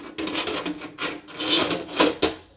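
A glass cover being fitted onto a room ceiling light, heard as close, uneven scraping and rubbing of glass against the fixture, with a few sharper clacks near the end and no talk.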